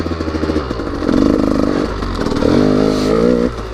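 A KTM EXC 200 dirt bike engine fired up with its electric starter, catching quickly and revving in two loud, close bursts before settling back.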